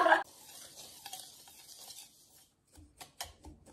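Cupcake batter being mixed in a bowl, a soft continuous scraping and stirring with a brief louder knock at the start, then quieter strokes and a few sharp taps near the end.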